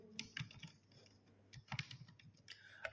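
Clattering keystrokes on a USB computer keyboard, typed while entering a product name in accounting software, come as irregular bursts of close, crisp clicks with short pauses between them and no talking.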